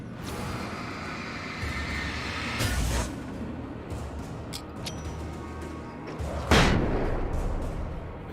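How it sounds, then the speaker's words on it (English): Distant gunfire in the video game Alan Wake, a couple of heavy booming shots over a constant rumbling backdrop of sirens and helicopter noise, with a sharper report near the end. "I think I heard some gunshots"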